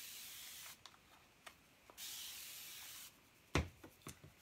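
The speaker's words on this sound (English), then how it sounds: "I'm going to spritz this down because I'm going to be blending." A spray bottle spritzes a painted wooden easel in a handful of short hissing bursts separated by quiet gaps, with a couple of longer sprays and a sharper one near the end.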